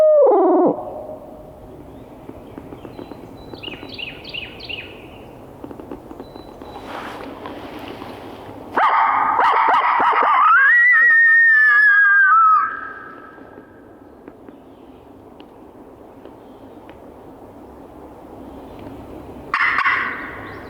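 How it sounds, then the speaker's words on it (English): An owl-hoot locator call rings out in the woods, followed a moment later by a wild turkey gobbling in reply, distant and faint against a quiet outdoor background. "I'm gonna outhoot again. It's been a little while since I outhooted."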